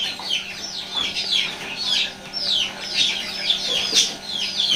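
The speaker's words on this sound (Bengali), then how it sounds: "এগুলো এখানে রয়েছে সবগুলো টাইগার মুরগির বাচ্চা" Tiger-breed chickens and chicks at a poultry farm give repeated high, chirpy cheeps and clucks, overlapping in a busy, continuous chorus at close range with a faint low hum beneath and no talk.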